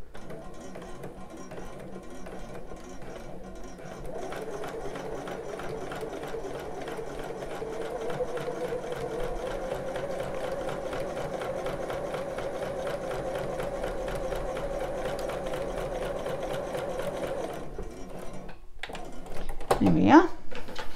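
A sewing machine stitches a bra seam in one continuous run lasting most of the time, close and steady, then stops with a short burst of handling noise at the end.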